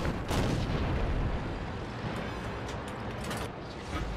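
Tank cannon fire in World of Tanks from a VK 36.01 H, heard as a loud booming shot at the start followed by a rumbling decay and some fainter distant reports.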